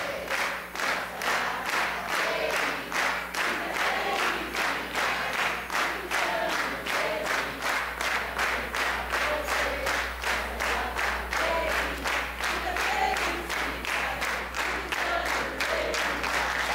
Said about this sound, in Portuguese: Uma grandiosa salva de palmas, senhoras e senhores